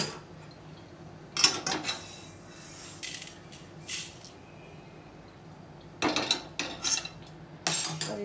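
Dishes and utensils clinking in a home kitchen as roasted chole and corn are moved onto a plate, with several sharp, fairly quiet clinks and scrapes spaced out over a soft background hum.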